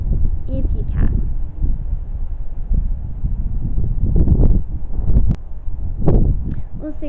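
Wind gusting around an old churchyard at night, a steady broad rumble and rustle rising and falling in gusts, with a few faint knocks and handling noises close by.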